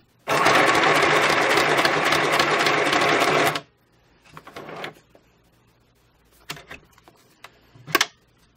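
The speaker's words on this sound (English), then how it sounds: "let's just have a go at putting a border on" Sewing machine stitching a border onto a collage card, a loud, close, continuous rapid chatter for about three seconds, then stopping, followed by scattered fabric and paper handling sounds.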